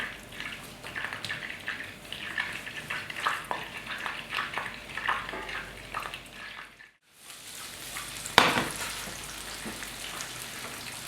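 Garlic and onion frying in hot oil in a pan, a steady sizzling hiss with stirring clatter, briefly cutting out near the middle before resuming with a sharp clack.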